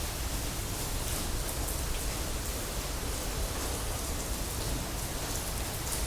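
Steady rain falls on surfaces in a dense, even hiss of countless drops, continuous and fairly loud with no pauses and no voices.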